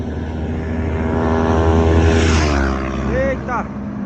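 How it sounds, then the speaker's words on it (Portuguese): A motorcycle speeds past on a road beside a walking and cycling path, its engine whine swelling loud and close before quickly fading away. "a moto passou voado, hein"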